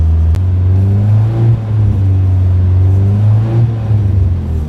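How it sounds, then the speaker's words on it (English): A car engine being broken in revs loudly and steadily at about 2,500 RPM, a deep droning rumble that rises and dips slightly, with no voices. "So time to jump in the car again and start revving it up."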